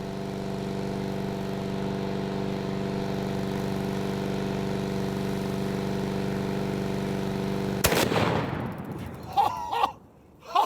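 A single massive rifle shot from a 950 JDJ Fat Mac booms near the end, cutting through a steady engine-like drone, followed by a few short knocks and rustles outdoors.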